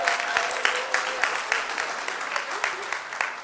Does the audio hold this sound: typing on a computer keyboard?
no